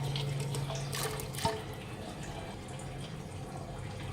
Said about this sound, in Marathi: डाळ स्वच्छ तीन चार पाण्यात धुवून घेते